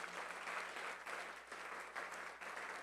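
Church congregation clapping, a steady wash of many hands in a worship service, rising and falling in slight waves with no talk over it.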